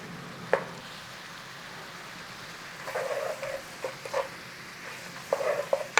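Beef sizzling in a pan for loaded cheesesteak fries, a soft steady frying hiss broken by a few scraping stirs with the spatula, close and fairly quiet.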